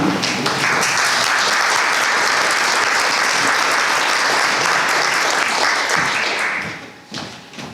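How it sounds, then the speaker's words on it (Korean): An audience at a talk concert breaks into loud, sustained applause for an arriving speaker, a dense, even wash of clapping that holds for several seconds before fading near the end. "뜨거운 박수로 이동욱 기자님을 모시도록 하겠습니다."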